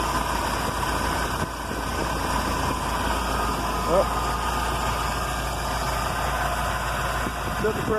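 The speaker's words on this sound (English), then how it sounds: "It's idling good." A car engine fitted with a Holley 4180C carburetor idles steadily, a constant low rumble with a faint whine on top, close and unchanging throughout; the pressure regulator is leaking.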